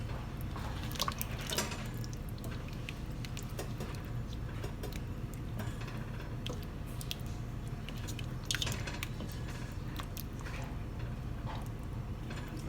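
A pot of thickening Puerto Rican carne guisada beef stew being stirred, with soft wet squishing and dripping sounds that keep going steadily and quietly at close range.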